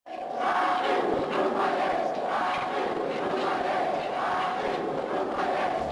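A huge stadium crowd of Congolese fans chants in support of Muhammad Ali at the 1974 Foreman–Ali fight in Congo, a loud sustained roar with rhythmic rising and falling chant waves.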